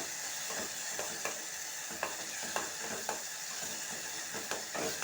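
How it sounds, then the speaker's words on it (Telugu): Tomatoes cook down in a pan for a curry and are stirred now and then, giving a soft, steady sizzle with periodic spoon scrapes against the pan. "టమాటాలు మధ్య మధ్య కలుపుకోవడం అన్నమాట అడగంటకుండా"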